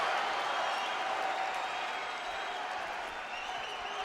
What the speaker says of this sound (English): crowd really don't want to stop cheering long enough to let the man talk